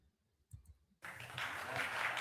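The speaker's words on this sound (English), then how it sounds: "How she get more claps than the other people?" Audience applause at a Philadelphia council meeting, quiet murmuring at first and then a sudden burst of steady, fairly distant clapping that carries on to the end.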